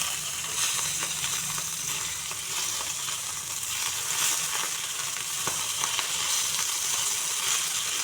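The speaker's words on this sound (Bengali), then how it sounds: "দেখুন একদম হালকা ফ্রাই। এরকম হালকা ফ্রাই করে নিচ্ছি।" Chapila fish shallow-frying in hot oil, a steady close sizzle and crackle with small pops running throughout, no talking.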